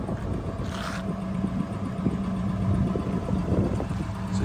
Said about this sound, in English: Nice dual exhaust.